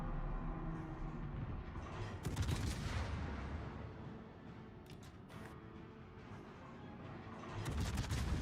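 Warship guns fire in a naval game, a steady low rumble of heavy gunfire with bursts of sharp cracking shots and booms recurring across the stretch, no voices present.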